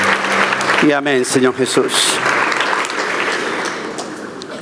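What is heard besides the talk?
church congregation applauding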